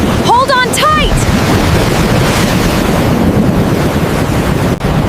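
Hurricane-force wind roaring over huge ocean waves at sea, a dense continuous rumble and hiss throughout, loud and close, with brief voice-like cries near the start.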